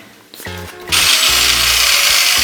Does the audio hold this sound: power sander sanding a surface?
yes